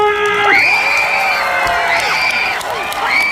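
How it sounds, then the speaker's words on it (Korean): A festival crowd at the Daejeon Hyo Culture Roots Festival concert cheers loudly, with sustained high-pitched screams and shouts from many voices that rise and fall close by, while clapping stays faint. "다 같이 박수와 함성!"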